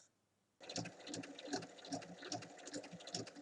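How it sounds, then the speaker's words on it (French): After a brief hush, a domestic sewing machine starts up and runs steadily, topstitching 1 mm from the edge around a fabric bag with an oval base. A continuous rapid mechanical chatter stays close and fairly loud, with no talking. "On va ensuite venir fermer l'ouverture en faisant une surpiqûre tout le tour du sac à 1 mm"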